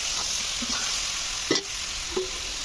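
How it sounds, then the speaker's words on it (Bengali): Spiced lote fish coated with salt, turmeric and chilli frying in a pan for a potato and eggplant chorchori, with a steady close sizzle and a couple of brief utensil knocks from stirring. "যে মাছটা আমি মেখে রেখেছিলাম নুন, হলুদ, লঙ্কা দিয়ে, সেই মাছটা আমি দিয়ে দিলাম"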